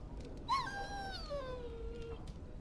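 A dog in the video game Dragon Age Origins lets out a single drawn-out whine that slides downward in pitch, faint and alone over a quiet hissing background.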